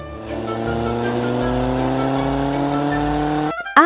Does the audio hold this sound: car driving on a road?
yes